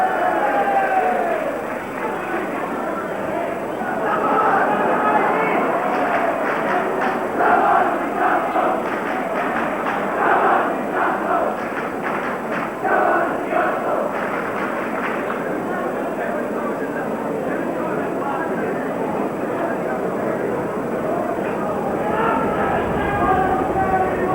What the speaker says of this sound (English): the crowd jeering David Skeen